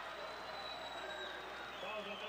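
Crowd applause at a Southern Illinois college basketball home game against Drake, a steady, moderately distant roar of clapping filling the arena with no break.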